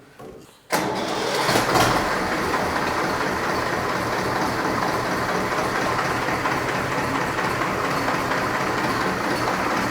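A vintage tractor engine catches almost at once and settles into a loud, steady, close running drone while it sits in first gear with the PTO spinning.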